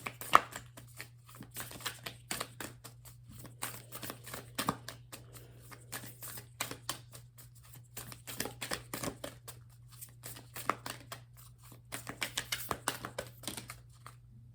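Oracle cards from a Moonology deck shuffled by hand in repeated crisp riffling bursts, close and fairly quiet over a steady low hum, with brief pauses between runs.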